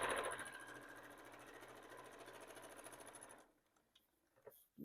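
A home sewing machine runs steadily, stitching straight quilting lines on a Tula Pink fabric pencil case, a fast even whir that stops partway through, leaving near silence and a few small handling clicks.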